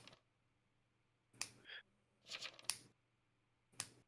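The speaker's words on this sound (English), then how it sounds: "Who's clicking your pen? Please stop." A pen clicks sharply a few times in short, separated bursts, some doubled, faint and close against an otherwise quiet room with no talk.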